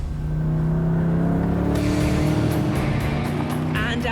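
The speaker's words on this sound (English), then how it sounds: "the hybrid direct drive system propels the car from 0 to 400 kilometers per hour in an acclaimed sub-20 seconds" Koenigsegg Regera hybrid supercar with a direct drive system accelerating hard, a loud, steady engine drone with a rising pitch and no gear shifts, heard close up along a runway outside the factory.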